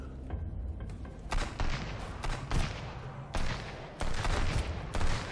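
Pistol gunshots ring out in the survival game Sunkenland, a series of loud sharp cracks and booms firing in irregular bursts, several shots close together with short gaps, over a constant noisy background.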